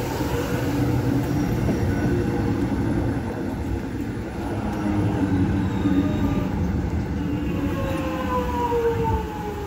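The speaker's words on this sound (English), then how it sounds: "Here's our train." Melbourne suburban train pulling into a station, a steady loud rumble of wheels and carriages with a rising squeal of wheels on rail near the end, continuous and close.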